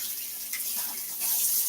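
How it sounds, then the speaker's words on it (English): Water runs steadily from a kitchen sink tap while food is rinsed under it, a close, even hiss that swells slightly louder toward the end. "Give this a rinse."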